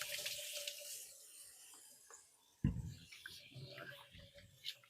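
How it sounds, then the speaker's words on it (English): Hands being washed under a running kitchen sink tap while cooking, a faint steady water stream with a sudden clatter midway, close and quiet with no talking. "And then get my hands nice and washed."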